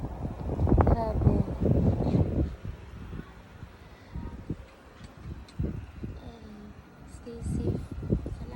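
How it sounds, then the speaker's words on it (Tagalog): Strong gusty wind buffets the microphone during a spring snowstorm in Canada, roaring and rumbling in waves, with a person speaking over the wind at times. "Grabe ang hangin."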